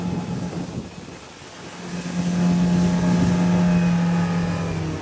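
A single 100 horsepower Suzuki DF10 outboard motor drives a power boat at speed, a loud steady drone that rises in pitch and strength midway, with wind buffeting the microphone.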